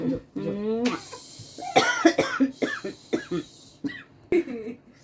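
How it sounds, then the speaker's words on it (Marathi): A woman coughs repeatedly indoors in a home where newborn twins are being visited, a series of sharp, fairly close bursts in an irregular rhythm, mixed with a few short vocal sounds and brief talk. "अशी कसं खोकला येतोय मावशीला"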